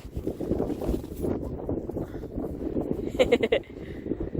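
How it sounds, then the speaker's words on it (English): Wind gusts buffet the microphone outdoors in snowy spring weather with a low, rumbling roar throughout, while a few voices talk faintly underneath. "Holy crap, it's windy."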